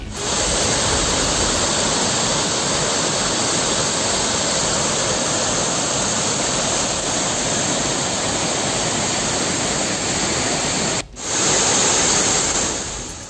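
Kovai Courtallam waterfall, reopened after flood closure, pours with a steady, loud, close rushing roar that continues without a break until a brief dip near the end.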